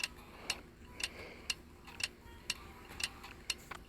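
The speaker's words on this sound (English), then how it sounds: "I don't know why that clock sound is playing" Steady clock ticking in the Pokemon TCG Online card game, about two crisp ticks per second, evenly spaced and fairly quiet, heard alone without talk.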